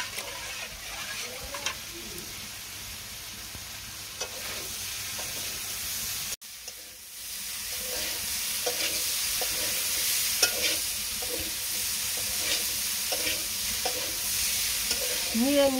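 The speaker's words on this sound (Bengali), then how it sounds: "নিরামিষ সবজি কষানো হয়ে গেছে" Vegetables for a vegetarian dish sizzle and are stirred in a hot pan, a steady frying hiss with repeated scraping strokes, a brief break midway, then continuing louder with no talking.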